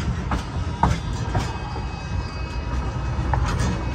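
Passenger train pulled by Baldwin steam locomotive 484 on the Cumbres and Toltec narrow-gauge line, heard as a steady rolling rumble with occasional faint wheel clicks and squeals from inside a carriage.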